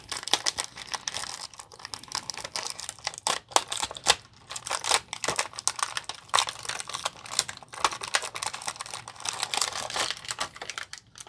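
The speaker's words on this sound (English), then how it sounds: "Got the figure out of the plastic prison that is the thing." Stiff plastic packaging crinkles and crackles continuously as a toy action figure is worked free from its blister, close and busy with many small snaps and rustles, no talking.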